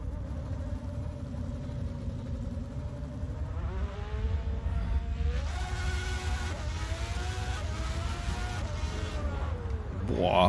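Race car engine in the driving game Assetto Corsa, a steady mid-pitched drone that rises and shifts as the car accelerates through the gears, heard at moderate volume.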